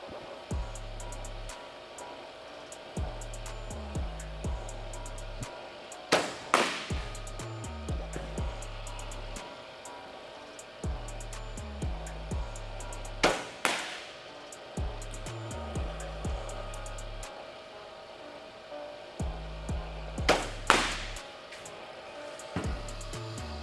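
A baseball pitching machine runs at batting practice with a steady mechanical whir and hum, and a sharp loud crack or thump breaks in at three spaced moments. No one speaks.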